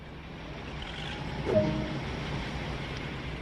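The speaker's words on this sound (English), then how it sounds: "This locomotive features 2 separate engines that are started independently." With one engine already running, the second diesel engine of a British Rail locomotive starts in Train Sim World 2, adding a short surge midway through a continuous low rumble that settles back into an even idle.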